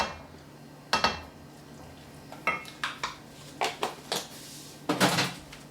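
Kitchen clatter of food being dumped into a cooking pot: a series of sharp knocks and scrapes of metal and utensils, irregular and close, with no talking.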